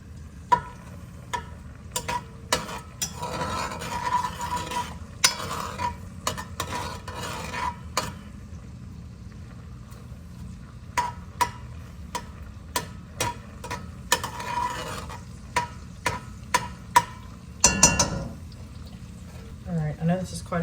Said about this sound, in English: So we want to saute those for just a second, just to take the really rawness out of them.